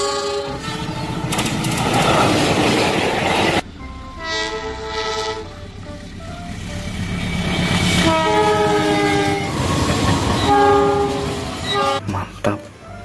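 A train of economy-class carriages passes close and loud, with a repeated horn blast over rolling wheel rumble and clatter, and no talk.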